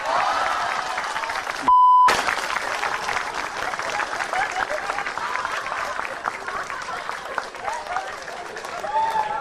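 Scattered audience applause and crowd noise at a stand-up comedy show, preceded by a short beep; clapping continues steadily under a speaking voice and light laughter.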